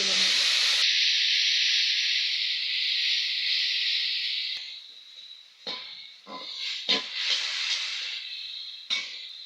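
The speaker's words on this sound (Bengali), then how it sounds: "দুটো টমেটো ছোটো ছোটো টমেটো আগে থেকে বেটে রেখেছি দিয়ে দেবো" Ground paste of two small tomatoes hits hot oil for Bengali raw-banana muitha, giving a loud, steady close hiss for several seconds that then fades into bursts of sputter and scraping stirs.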